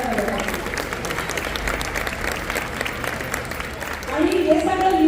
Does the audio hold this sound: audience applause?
yes